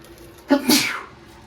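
A single loud sneeze bursts out close by, a sharp intake followed by a hissing release that fades quickly.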